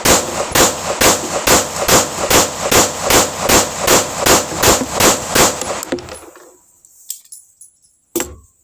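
A Smith & Wesson M&P 2.0 pistol fires a fast, steady string of about fifteen loud shots in quick succession, then stops abruptly, followed by a couple of faint metallic clinks in near-silence.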